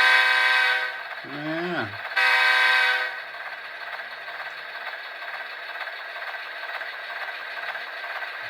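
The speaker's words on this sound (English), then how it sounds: "Try some whistle, horn action." A loud, steady electronic horn chord from an HO scale EMD F40PH model locomotive's Soundtraxx sound decoder blares for about two seconds, breaks briefly, sounds again, then gives way to a low idling rumble.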